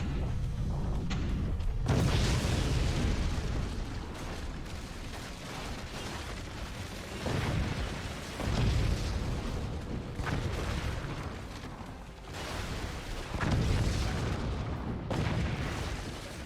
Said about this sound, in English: We now have a drunk nuke in play. And it goes wild.